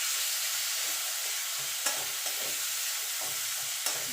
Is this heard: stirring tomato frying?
yes